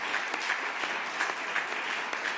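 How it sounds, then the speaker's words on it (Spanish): A lecture audience claps for a speaker in a steady, fairly soft roomful of applause that continues evenly with a few sharper individual claps standing out. "Pido un aplauso para ella."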